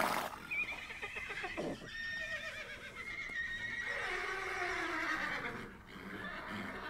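Several horses whinny and neigh, their calls rising and falling over about seven seconds with faint hoof clip-clops beneath, fairly distant and moderately quiet.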